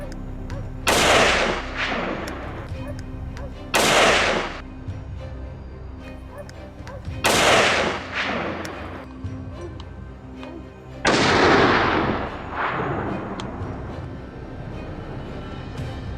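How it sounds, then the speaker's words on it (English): Four loud, sharp gunshots ring out in succession during a wild boar hunt on a snowy mountainside, each blast followed by a long echoing decay, spaced a few seconds apart. "Gunshots rang out in succession, instantly halting its escape."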